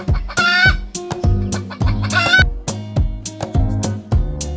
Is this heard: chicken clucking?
yes